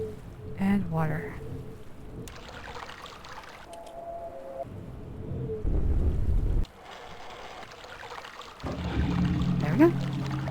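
Rushing, splashing water effect from the Myst video game's sound puzzle, arriving in loud broadband bursts between other shifting game tones and clicks, with no voices.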